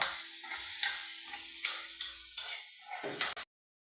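Chicken sautés with garam masala and pepper powder for a coconut chicken dish, with soft scraping stirs and light clinks of a utensil against the pan over a gentle sizzle, then the sound cuts off abruptly.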